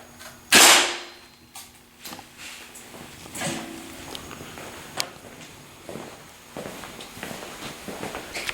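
An arrow tipped with a toxic broadhead is fired into meat and bone, giving one sharp loud impact crack followed by quieter scattered knocks and rustles nearby.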